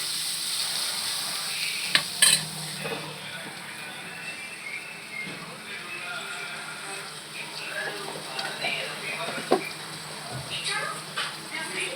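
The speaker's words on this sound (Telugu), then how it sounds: "వేసుకొని దాన్ని కూడా పచ్చి వాసన పోయేంత వరకు ఫ్రై చేసేస్తాను." Ginger garlic paste frying in a pan for a broccoli masala curry makes a constant crackling sizzle, with occasional sharp clicks and knocks from stirring scattered across the span.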